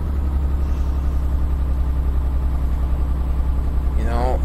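Steady low diesel idle of a Mercedes-Benz Actros MP3 truck with a 320 horsepower engine in Euro Truck Simulator 2, a constant rumble running throughout while a voice talks over it.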